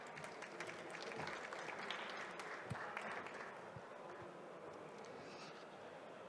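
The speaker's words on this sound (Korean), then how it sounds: "유나이티드 어소시에이츠를 큰 박수로 맞이해 주시길 부탁드립니다" Faint, distant applause from the audience at a startup pitch competition, COMEUP 2024 Rookie League, welcoming a company onto the stage, an even patter of clapping with a few sharper claps over about six seconds.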